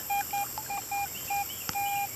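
A metal detector sounds a series of short electronic beeps of varying length over pennies lodged in a sand- and gravel-filled bedrock crack at a wishing well, fairly quiet, with faint background hiss and no talk.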